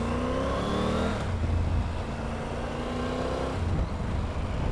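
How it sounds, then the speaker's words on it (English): BMW car pulling away from a stop in traffic, a steady mid-pitched engine note rising through the revs and then easing, heard from a nearby motorcycle over constant wind and road rumble. "Depends how quickly this BMW goes away."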